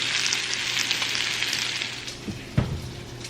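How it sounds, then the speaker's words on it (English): Shrimp pan-searing in a hot pan give off a loud, steady sizzle and crackle, with a few soft knocks and scrapes near the end. "just let them pan sear on both sides"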